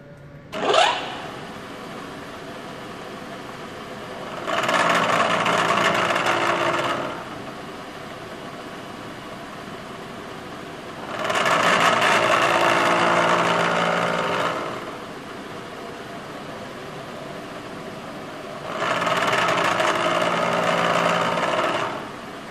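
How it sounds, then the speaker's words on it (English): A 40-year-old milling machine cuts metal in three separate passes, each a few seconds of steady grinding, whirring noise, broken by quieter pauses where only a low machine hum remains. "So let's go on my 40-year-old milling machine and sort that out first."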